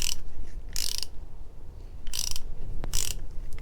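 Three quick bursts of ratchet clicking as a crash slider bolt is tightened on a Honda CB650R motorcycle, close and crisp, separated by short pauses with no talk.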